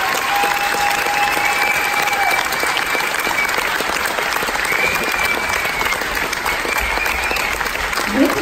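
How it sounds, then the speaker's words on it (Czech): An audience at a gala evening applauds the performers' entrance, with steady, dense clapping that holds loud and even throughout and never lets up. "a diváci vám na ten příchod zatleskají"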